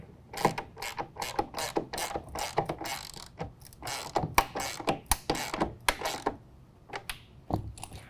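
A ratchet clicks in rapid bursts while tightening a rail clamp for a TruXedo Deuce 2 tonneau cover on a 2019 Chevy GMC 1500 pickup bed, the sharp pawl ticks coming close and steady with short pauses between strokes.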